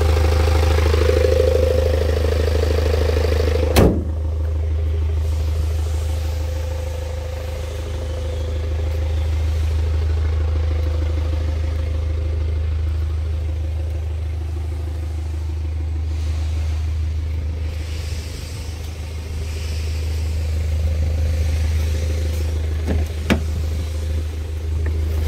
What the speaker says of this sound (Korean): BMW 3GT 폐차 시동 영상.